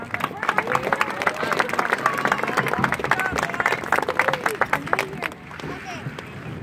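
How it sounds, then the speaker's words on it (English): Crowd applause and clapping for a football team's players at a ceremony, dense and steady for about five seconds under some murmur, then tapering off abruptly near the end. "So let's give them one more round of applause."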